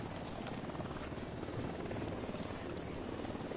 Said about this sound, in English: These choppers are so annoying.